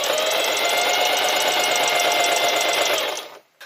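A sewing machine runs steadily through a plastic side panel of a bike bag made from plastic trash, a fast even whir with a rapid stitching pulse, loud and close, stopping abruptly near the end.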